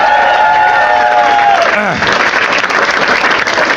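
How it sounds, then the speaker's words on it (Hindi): Studio audience at a standup comedy show bursts into loud applause and cheering after a musical sting fades, clapping dense and sustained close by, with whoops mixed in. "एक बार गौरव भाई के लिए सब ताली बजा दो"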